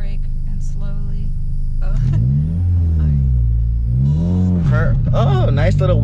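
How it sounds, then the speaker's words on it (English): A manual car pulls away uphill from first gear with a brief wheel spin, the engine droning low and rising in two swells as it gains load, while people talk over it. "Oh, nice little wheel spin, a little bit bounce, but not too bad."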